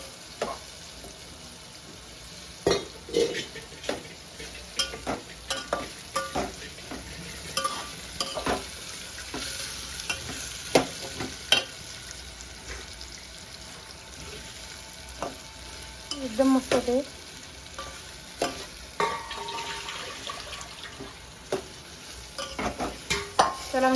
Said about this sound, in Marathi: आम्हाला हलवत राहायचंय दोन दोन तीन मिनिटं